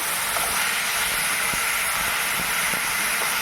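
Onions and dried red chillies fry in oil for a village-style groundnut rasam, giving a steady, dense, loud sizzle and hiss throughout, close by, with a few faint clicks and no talking.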